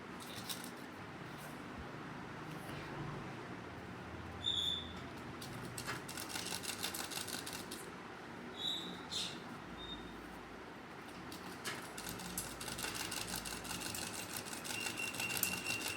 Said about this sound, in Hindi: इस पर मशीन चला देंगे, बिल्कुल सीधी सिलाई